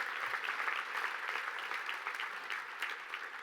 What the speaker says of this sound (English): Coach Broyles would be round of applause for that,